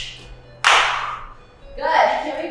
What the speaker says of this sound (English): You can clap if you want to.